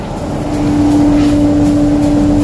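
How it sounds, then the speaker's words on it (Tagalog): A Japanese rice polishing machine, milling brown rice into white, runs with a loud, steady motor drone and a strong constant hum, starting up and settling into an even, unbroken whir. "Ayun mga kalabarkada, umandar na yung makina."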